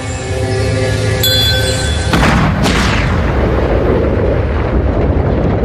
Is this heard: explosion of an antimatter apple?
yes